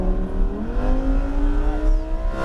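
Loud, sustained Lamborghini engine roar at full throttle on a racetrack, its pitch climbing steadily as the car accelerates, heard close with no talking.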